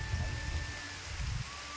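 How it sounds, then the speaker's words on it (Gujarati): Heavy rain in the Gir forest hisses faintly throughout, a soft even wash with low rumbling underneath and no voices. "અત્યારે વરસાદ તો આવે છે હારામાં હારો, તમે જોઈ શકો છો"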